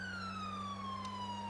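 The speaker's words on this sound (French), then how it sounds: "On va mettre les sirènes." A police car siren wails steadily with a slowly falling tone, loud and continuous over a low engine hum.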